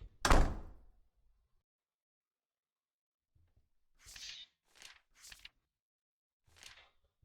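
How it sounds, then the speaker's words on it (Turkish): A door swinging shut in the horror video game Hotel Remorse gives one loud, solid thud near the start, followed by silence and then a few faint, brief rustles and bumps. "Bu çocuğu kapıyı niye kapattı?"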